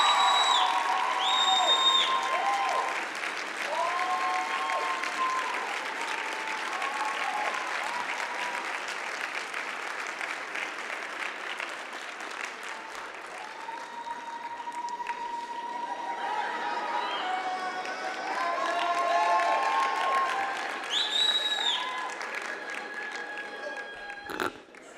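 A large audience at a university commencement ceremony applauds graduates' families with sustained clapping and scattered cheers and whistles rising and falling over about twenty-five seconds.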